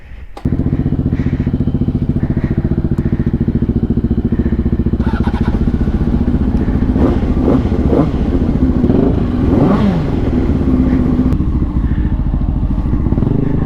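A Honda CBR 600RR motorcycle idles loudly and steadily in a garage, with the throttle snapped several times around the middle so the engine revs up and drops back in quick sweeps.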